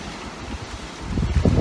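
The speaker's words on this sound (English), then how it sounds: "And that wind's kicking way up." Strong wind blows outdoors, a low rumbling buffet on the microphone that grows louder and gustier toward the end.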